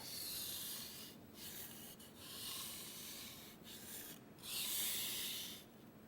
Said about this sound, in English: The longer your strokes, the more efficient your sharpening.